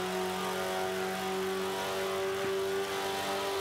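Mitsubishi Lancer Evolution VIII engine in the racing game Forza Motorsport 5, heavily power-upgraded, holding a steady loud mid-pitched drone with a brief shift dip near the middle during a multiplayer race.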